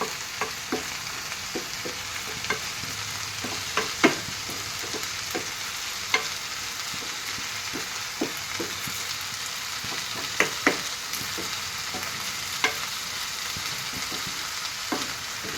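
Ivy gourd fries in a pan over a low flame, giving a steady soft sizzle broken by scattered scrapes and taps of stirring, close and moderately loud with no talking.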